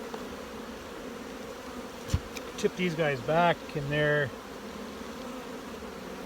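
Honeybees in an opened hive box hum in a low, steady drone early in spring after a cold snap. Someone speaks briefly over the buzzing, and a few knocks sound as the box is tipped.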